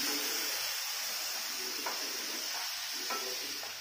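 Sliced onions sautéing in a pan for dhaba-style paneer masala, a steady close sizzle with soft scraping stirs every second or so and no voices.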